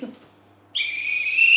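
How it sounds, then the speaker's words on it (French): A whistle blown once, a sudden shrill sustained blast that starts after a brief quiet moment and holds steady and loud to the end. "Prends-moi mon sifflet."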